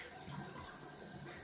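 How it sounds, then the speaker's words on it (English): Cold water running from a tap into a sink during a wet shave, a soft, even hiss of flowing water, fairly quiet and steady with no talk. "Alright, cold water."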